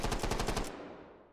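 Uzi-type submachine gun firing in the VR game Hot Dogs, Horseshoes & Hand Grenades: a rapid burst of about eight loud, evenly spaced shots over roughly half a second, then a fading echoing tail.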